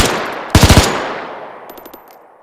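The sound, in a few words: MG34 machine gun firing from WW2 vehicle in Arma 3 video game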